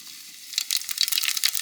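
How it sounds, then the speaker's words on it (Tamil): Mustard seeds hit hot oil in a village-style pan, bursting into a dense, close crackle of quick spitting pops after a brief quiet start. "எண்ணெய் நல்லா சூடாகிடுச்சு. கடுகு போட்டுக்கலாம்."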